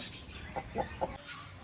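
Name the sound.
rooster clucking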